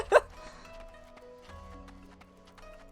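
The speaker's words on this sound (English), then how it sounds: "It was a itty bitty little burp." One tiny, quick burp pops up near the start, close but soft, followed by quiet background sounds.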